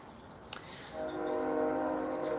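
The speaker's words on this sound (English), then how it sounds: "honk for confirmation from that plane or train" A distant train horn sounds in a sustained honk that rises and holds for over a second, following a brief faint knock, with no talking.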